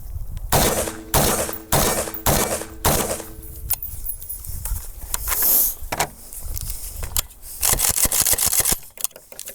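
An AK rifle with a 12.5 inch barrel and muzzle flash reducer fires a rapid string of sharp, loud shots, grouped in bursts with short pauses and a fast volley near the end, close and dominant.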